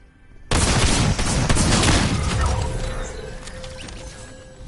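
Pump shotgun blasts in a Fortnite solo match, a sudden loud burst of close gunfire with rapid cracks and clatter that slowly fades with a lingering ring.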